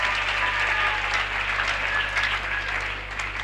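Applause and cheering from a church congregation praising Jesus, a dense, steady wash of clapping that holds for a few seconds with no voices speaking over it.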